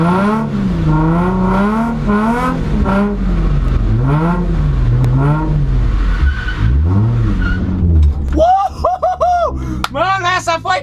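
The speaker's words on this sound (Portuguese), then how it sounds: "Acelerei o carro bem de lado." A car revs and accelerates hard while sliding sideways in a drift during parking practice, the engine note rising and falling in repeated sweeps, loud and close, ending in sharper high revving bursts.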